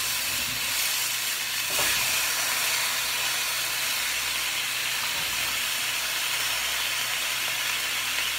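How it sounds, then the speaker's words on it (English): Granny Smith apple slices frying in a pan, a steady soft sizzle and hiss that continues evenly throughout, fairly quiet and close with no talking. "you want to take the apples, like so, and just drop them in the pan"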